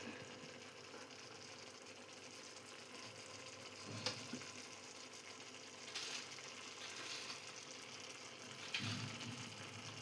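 Spiced onion masala for palak paneer frying in a pan, a steady low sizzle running throughout with a few brief stirring knocks at intervals, no voices.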